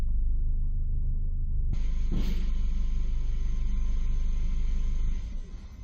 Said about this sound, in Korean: 꺼졌어요. 시동 꺼졌어요.